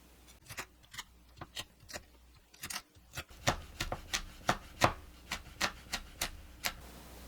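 Green and red chili peppers are chopped small with a knife on a board, a steady run of crisp, evenly paced taps up close with a short pause partway through.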